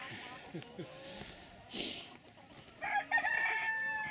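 Chickens cluck in short bursts and a rooster crows near the end, heard at moderate distance beneath people talking.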